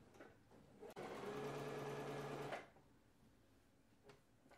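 A sewing machine stitching T-shirt fabric runs in one steady burst of about a second and a half, whirring stitches close by, then stops, leaving a quiet room.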